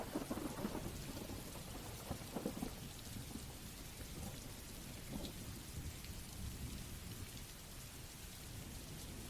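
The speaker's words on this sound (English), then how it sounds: "it sounds like thunder in the distance and perhaps a light pattering of rain" Steady light rain patters throughout while low, distant thunder rumbles roll in beneath it, with no voices present.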